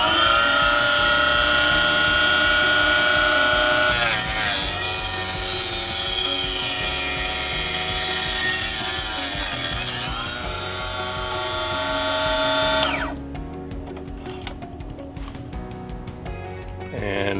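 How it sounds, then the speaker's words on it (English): A MicroLux mini miter cut-off saw with a high-speed steel blade cuts metal tubing, a loud steady whine that rises in pitch as the cut begins, then winds down to quieter clicks and rattles after the blade stops. "for soft metals like brass and copper, the steel blade works very well because it's high-speed steel"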